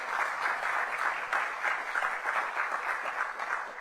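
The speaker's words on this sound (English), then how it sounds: "That deserves a round of applause." An audience at a downtown public meeting with the city mayor gives a steady round of applause, many hands clapping evenly and fairly loud throughout, with no talk over it.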